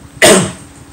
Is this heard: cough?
yes